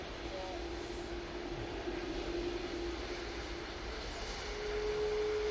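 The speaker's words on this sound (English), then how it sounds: "Decent landing there." A passenger airliner arriving from Beijing touches down at Manchester Airport, its engines a low, distant, steady roar that swells slightly toward the end, with no one speaking over it.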